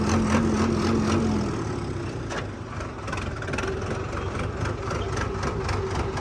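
A tractor engine idles steadily nearby, a continuous low, throbbing rumble with no talking over it.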